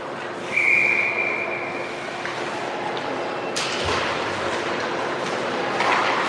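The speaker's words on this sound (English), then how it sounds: "Whistle goes, face off to the left of Layla." A referee's whistle at an ice hockey game, one short sharp blast early on, heard over the hollow hum and ambient noise of the rink.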